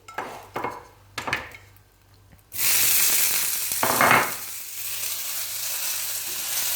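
Green beans drop into a hot pan with a sudden loud hiss that settles into steady frying, after a few clattering kitchen knocks and pan sounds.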